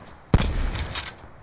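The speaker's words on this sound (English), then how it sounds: "I hear gunshots over there." Gunfire in the Call of Duty: Black Ops 4 Blackout mode on the Estates map: a loud burst of shots with a sharp opening crack, followed by sustained rattling fire and dense game noise, with no talking.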